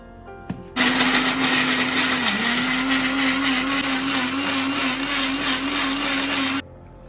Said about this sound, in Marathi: हे सगळं मिक्सरमधनं फिरवून घ्यायचं आहे त्याची प्युरी होते